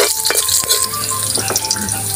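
Garlic and ginger sizzle steadily in a hot pan for a papaitan of beef skin, a close, continuous frying hiss with small pops and a light stirring scrape, no voices.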